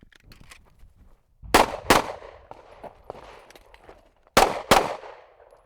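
Pistol gunshots during a shooting drill, two sharp loud pairs of shots fired outdoors with echoing decay, plus fainter clicks and handling noises between them, no speech.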